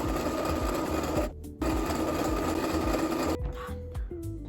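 A sewing machine runs in steady bursts as it stitches the front and back of a pair of pants together along the crotch seam, pausing briefly twice before the motor starts up again, loud and close.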